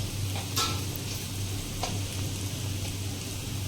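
Turmeric powder going into sizzling oil in a pan for rajma, a soft, steady frying hiss with a few faint clicks over a low hum.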